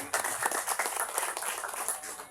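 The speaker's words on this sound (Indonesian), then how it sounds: "Bisa tepuk tangan sekali lagi Pak." Audience clapping at a thanksgiving ceremony for a village waste-processing site in Balonggandu, Jatisari, Karawang, heard as a dense, steady patter of many hands, moderately faint, with no talk over it.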